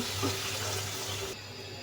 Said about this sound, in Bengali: এখন দিয়ে দিব ঝোলের জন্য পানি।